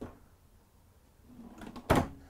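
A kitchen drawer in a 2023 Newmar King Aire 4531 motorhome slides open, a brief quiet rumble building to a sharp clack near the end, with a faint thump at the start.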